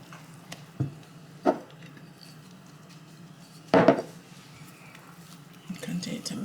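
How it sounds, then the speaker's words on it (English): Spoon knocking against a bowl while dough is mixed for a Caribbean Easter spice bun: a few scattered clinks and scrapes, one louder knock midway, with a low voice murmuring faintly under steady room hum. "And mix it up well."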